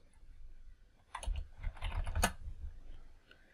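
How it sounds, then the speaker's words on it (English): Typing on a computer keyboard at a desk: a short quick burst of close key clicks with a few louder taps, against quiet room noise. "I'm going to type in cmd."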